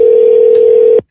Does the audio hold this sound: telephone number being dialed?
yes